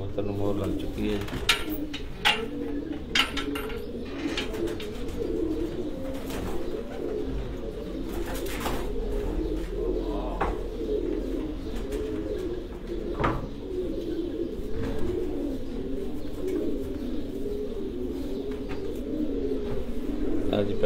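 Low, continuous cooing from racing pigeons fills an outdoor pigeon sports tournament in Gujrat, Farran style, with crowd noise behind it and an announcer speaking over the birds for the whole stretch.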